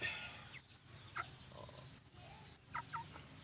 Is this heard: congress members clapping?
no